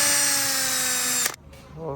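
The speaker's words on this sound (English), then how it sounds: "now I'm drilling small holes to try and get us to that 18 PSI" A power drill bores small holes in turbo wastegate reference lines, a loud steady whine for over a second that cuts off abruptly, followed by quieter shop sounds and faint talk.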